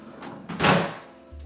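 A bathroom vanity drawer slides shut with a short rushing scrape ending in a soft thud, close and brief.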